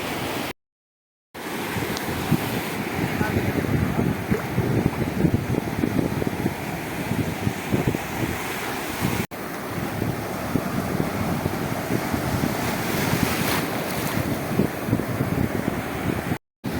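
Sea waves wash around a fishing boat out at sea in a continuous surging roar, heavily buffeted by wind against the microphone, loud and steady with no talk.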